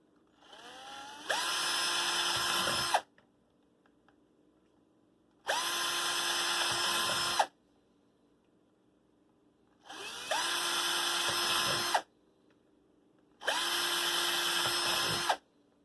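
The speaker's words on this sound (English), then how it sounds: "That's where we drill the holes, and as close to the top as possible" A power drill bores holes in a keyboard case in four separate bursts of about two seconds each, a whining motor pitch rising and falling between near-silent pauses.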